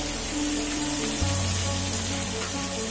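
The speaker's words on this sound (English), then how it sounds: "we add the masala paste that we have prepared previously" Masala paste for a malai egg curry dropped into a hot pan, a steady hiss of frying throughout with a low hum from the stove, no talking.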